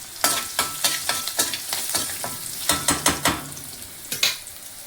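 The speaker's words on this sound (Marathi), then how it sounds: "हळद थोडी कमी टाकायची, त्यालाही परतून घेऊया।" Turmeric and bitter gourd being stirred and sautéed in a hot pan, with a steady sizzle broken by repeated scraping strokes of the spoon, close and fairly loud with no talking.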